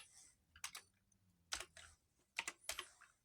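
Several quick clicks and short bursts of keystrokes on a computer keyboard while a file name is entered, faint and close with pauses between groups.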